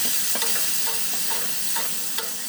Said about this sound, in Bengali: হলুদ গুঁড়ো, জিরে গুঁড়ো, লঙ্কা গুঁড়ো অল্প, একটু জল দিয়ে মশলাটা কষিয়ে নেবে